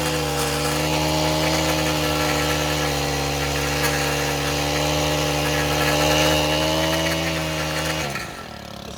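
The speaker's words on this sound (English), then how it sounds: "So I'm mowing this with the Gravely." A Gravely mower cutting grass, its engine holding a steady, loud mechanical drone with strong low harmonics before easing off near the end; no voices.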